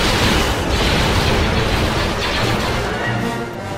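Cannon bombardment explosions in the Star Wars Thrawn's Revenge strategy game, a dense, continuous rumble of overlapping booms and bursts that stays loud throughout and eases slightly at the end.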